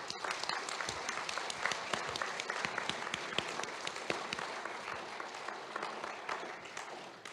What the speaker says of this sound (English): another round of applause for our wonderful medalists